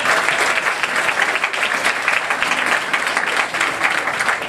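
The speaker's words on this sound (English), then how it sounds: "I give the teachers a round of applause for helping y'all get this far" A school audience applauds for teachers, with steady, dense hand clapping that stays loud and even throughout, accompanied by a faint murmur of crowd.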